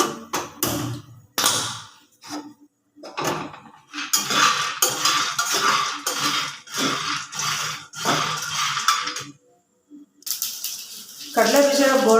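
Peanuts rattle and scrape in a pan as they are dry-roasted for chutney powder, giving bursts of clattering stirring and tossing between pauses, with someone speaking over parts of it.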